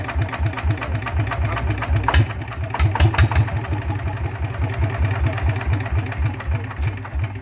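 A motorcycle engine revved in neutral with no load, a throbbing, clattering idle that swells in bursts of revving and stays close and steady throughout.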